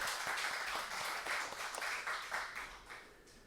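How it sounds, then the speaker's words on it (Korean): A congregation applauds during a Sunday morning church worship service, a steady rippling of many hands clapping together in a reverberant hall, moderately loud and continuing evenly before easing slightly at the end. "하나님께 영광의 박수를 올려드립시다"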